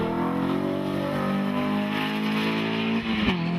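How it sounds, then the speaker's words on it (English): Porsche GT3 race car circling a track in a sprint series race, its engine a loud, steady, close roar held throughout with a brief dip near the end. "Mike Solon continues to guide the fantastic sounding Porsche GT3 around in second place"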